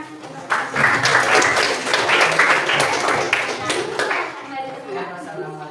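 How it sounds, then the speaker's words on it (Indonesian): Students in a junior high school classroom clap together during a lesson, a dense, sustained burst of many hands that swells quickly, holds for several seconds, then tapers off. "Oke, tepuk tangan"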